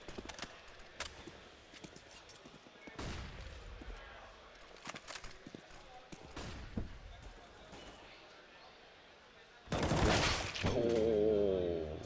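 Gunfire sprayed through smoke in Counter-Strike on the Inferno map during a Fragadelphia match: scattered single shots and short bursts, then a loud sustained volley near the end, with faint casting voices underneath.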